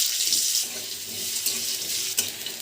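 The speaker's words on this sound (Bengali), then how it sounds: "ভালো করে ধুয়ে পরিষ্কার করে নিয়েছি।" Tap water runs steadily into a sink as flat beans are washed, a close, continuous splashing hiss with small bursts throughout.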